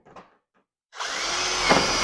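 A power drill drives a screw into eave trim: a short soft knock, then after a pause the drill's motor whirs up loud and close and runs steadily, with a slight strain midway.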